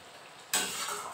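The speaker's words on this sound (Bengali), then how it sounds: "এবার এই পেস্টটাকে তেলের মধ্যে দিয়ে ভালো করে ভাজতে হবে।" Spice paste with turmeric, sugar and salt frying in hot oil in a pan and being stirred, a bright sizzle and scraping that bursts in suddenly after a short quiet moment and then stays steady and close.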